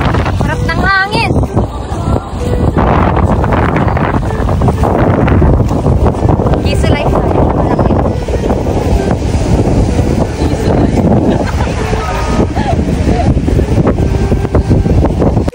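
Strong wind buffeting the microphone at the Bangui windmills in Ilocos Norte, a loud, rough, continuous roar throughout, with voices briefly audible near the start.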